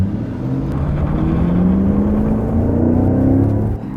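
A Ford Mustang engine revs up with a rising tone, loud and close, a steady throaty drone climbing in pitch for a few seconds.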